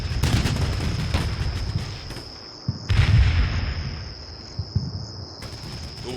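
Artillery fire and explosions in a war video game: sharp booming blasts, one near the start and a heavier one around the middle, trail off into a steady high insect-like ambient drone.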